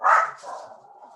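A small dog yips and barks once sharply, then trails into softer whining sounds, fairly faint and in the background of a quiet room.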